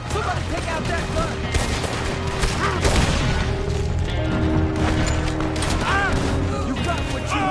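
Sustained machine gun fire in Red Dead Redemption 2 rattles through a chaotic trench battle, loud bursts layered with booms and crashes under shouted voices.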